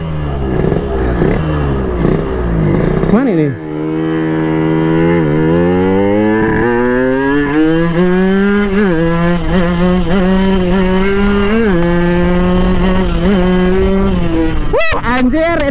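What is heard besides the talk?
two-stroke motorcycle engine revving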